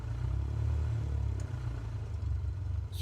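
A small aircraft engine in Microsoft Flight Simulator drones with a low, throbbing, tractor-like rumble, steady and close throughout with slight clattering texture and no talking.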